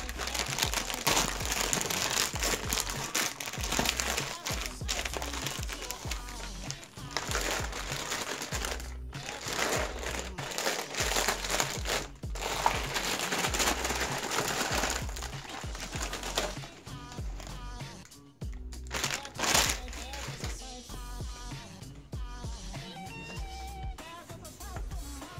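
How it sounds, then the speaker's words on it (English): Heavy plastic packaging of a U.S. First Strike Ration, packed 2017, is torn and crinkled up close for a long stretch, with dense crackling, rustling and crunching that shifts in loudness and has brief pauses. "Go ahead and rip it open."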